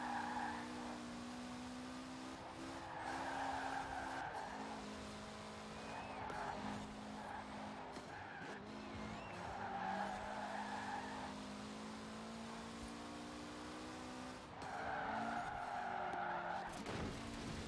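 Tires squeal and screech repeatedly in long stretches as a car slides around corners in the video game Forza, the engine droning steadily underneath, with no voices.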